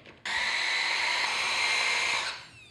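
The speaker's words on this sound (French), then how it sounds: "Donc notre pesto, je vais juste le goûter. Super bon. On revient mixer." A blender whirs steadily for about two seconds, mixing a pistachio pesto for tagliatelle, starting abruptly and cutting off, loud and close with no talk.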